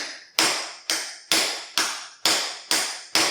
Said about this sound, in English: When in doubt, hammer it out.